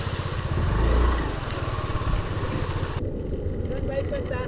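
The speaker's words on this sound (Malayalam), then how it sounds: "ഒരു ബൈക്ക്" A motorbike passes on a rainy, foggy road near a small forest stream in Agumbe, its engine swelling loud early on, then fading to a rumble under wind noise.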